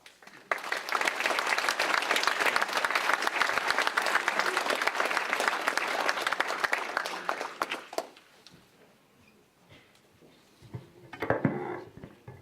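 A large audience gives a long, loud burst of applause at an opening ceremony for Feathers of Hope 2014. The clapping fills the first eight seconds and then fades into quiet room sound, with a brief rise of voices near the end.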